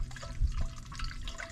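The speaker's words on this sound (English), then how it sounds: "if you put warm water in your mixing bowl" Warm water pours into a mixing bowl for dissolving soluble fertilizer, a steady close splashing trickle running throughout the short stretch with no talk.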